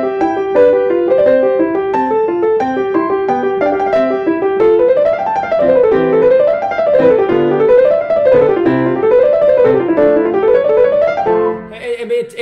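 A Mozart piece plays back mechanically on a MIDI synthesizer, even evenly spaced tones with a stiff, robotic rhythm and a repeating wavy melodic figure, clear and alone until it cuts off.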